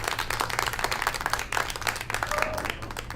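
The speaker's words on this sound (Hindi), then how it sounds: "तो तालियां दोनों के लिए।" Audience applause at a carrom tournament final, a crowd clapping steadily and briskly, close and moderately loud, with a low hum underneath.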